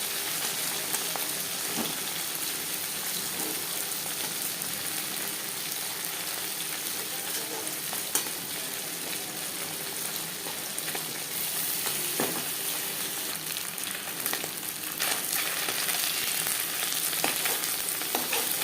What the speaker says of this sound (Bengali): একসাথে অনেকগুলো মাছ ভাজার জন্য একটু অসুবিধা হচ্ছে